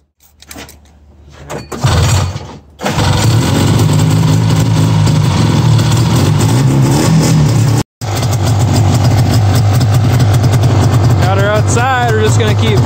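A vintage Roll-O-Flex snowmobile engine with a carburetor being tuned sputters to life after a couple of false starts, then runs loud and close with a rough, steady idle, cutting out briefly once before catching again, with faint revving near the end.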